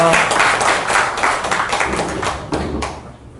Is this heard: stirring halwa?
no